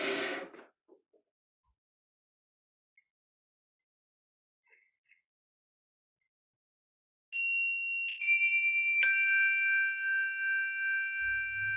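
A single bell rung at an evening vespers service is struck three times in close succession, its clear, resonant tone ringing on and sustaining after a long quiet pause, with a faint low rumble near the end.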